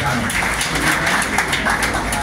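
Audience applause at a conference, a dense, loud wash of clapping from a crowd lasting a couple of seconds, with voices mixed in.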